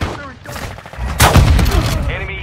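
Gunfire in the Warzone Mobile video game, a loud sharp shot burst in the second half after quieter game sounds, with faint voice callouts.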